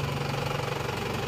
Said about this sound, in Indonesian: Yang penting mesin sudah tidak ngobos, itu sudah bagus, dan mesinnya juga rata dan halus.